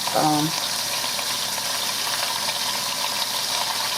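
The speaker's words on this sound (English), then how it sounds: "I'm going to brown this. I'm going to get it brown" A pot roast browns in the pot of a 4-quart pressure cooker, giving a steady close sizzle and frying hiss with a short clink at the start.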